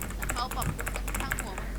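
Keys pressed on a computer keyboard while playing Dead by Daylight, a fast run of close clicks and taps heard under someone talking.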